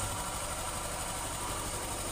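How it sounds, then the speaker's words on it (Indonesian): Rough, steady Honda Scoopy scooter engine idle with an eSAF frame, close and constant, with a coarse rattling texture from the middle-to-front of the engine and no voices. "kemungkinan besar yang timbul suara kasar itu dari bagian mesin tengah"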